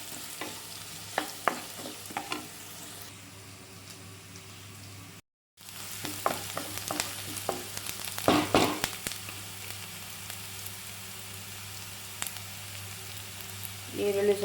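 Green chillies and ginger frying in a pan for upma, a steady sizzle with scattered stirring scrapes and clinks, briefly cut to silence partway through, then resuming louder.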